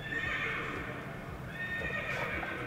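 A horse neighs and whinnies loudly, played through the external speaker of a Zeekr X electric car, over a constant low engine-like rumble, with faint clip-clop hoofbeats.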